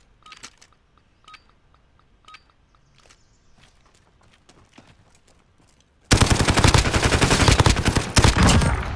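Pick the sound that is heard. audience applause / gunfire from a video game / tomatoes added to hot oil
gunfire from a video game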